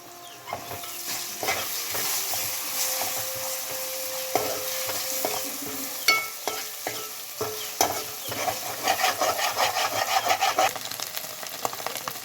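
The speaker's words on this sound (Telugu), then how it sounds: "పచ్చిమిర్చి ఉల్లిగడ్డ పసుపు ఎగ్ ఇవన్నీ వేసి మంచిగా ఫ్రై చేసుకోవాలి" Egg frying in a pan with onion, green chili and turmeric, giving a continuous close sizzle broken by repeated scraping stirs of a spoon against the pan, with no talking.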